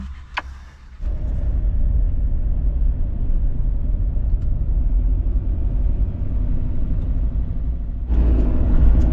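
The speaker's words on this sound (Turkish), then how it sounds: "Arkama araba geldi." A car coming up from behind on a rainy road trip in Kars, Turkey: a steady low engine rumble and road roar that sets in after a brief quieter moment and holds strongly, with a brighter swell near the end.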